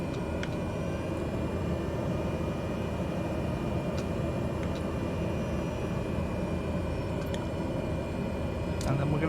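Aircraft engine throttling up in Microsoft Flight Simulator 2020 before taxiing in Denmark, a steady broad engine drone holding at a moderate level throughout, with faint ticks and clicks scattered over it.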